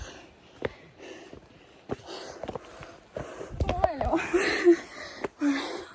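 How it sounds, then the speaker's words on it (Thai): Heavy, ragged panting from hikers climbing a steep trail, breaths rising and falling close to the microphone with sniffs and gasps, interrupted at times by brief speech. "หอบมากทุกคนทางชันมาก"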